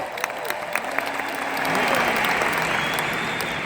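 Audience clapping at a large motivational business seminar, starting with a few scattered claps and swelling into fuller, steady applause from the crowd, with a voice briefly heard beneath it.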